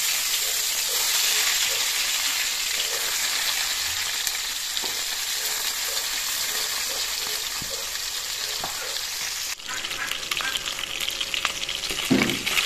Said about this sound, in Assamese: পিছে পিছকৈ মাছখিনি ফ্ৰাই হ'বলৈ দিম।